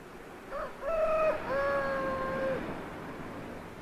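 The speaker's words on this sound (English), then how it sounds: "when my old rooster out there crows, that means time to get up" An old rooster crows once outdoors, a clear, drawn-out call from mid-distance rising and then holding before it fades, with quiet rural background.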